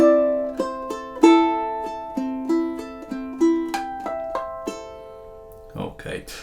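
Ukulele plays measures 19 and 20 of a song as a string of crisp, ringing chord strums in an even pulse, up close. A short burst of speech follows the final chord.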